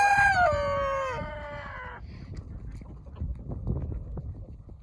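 A fluffy-headed, punk-looking chicken crows once, a clear rooster call in the first two seconds, followed by faint outdoor background noise.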